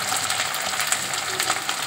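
Ginger paste frying in a pan, a bright continuous sizzle with faint stirring scrapes underneath, close and steady.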